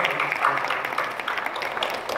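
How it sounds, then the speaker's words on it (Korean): Applause from a Saturday dawn prayer gathering at a church in Incheon, a steady, moderately loud patter of many hands clapping with a faint voice briefly audible beneath it. "뜨겁게 박수해 주시고요."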